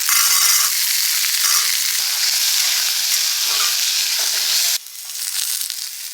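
Sliced potatoes hit hot oil in a pan for an okra and potato chorchori cooked on a rooftop, giving a loud, steady, close sizzle with stirring that drops noticeably quieter near the end.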